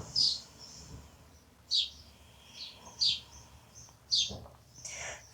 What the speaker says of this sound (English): I hope you can hear these birds chirping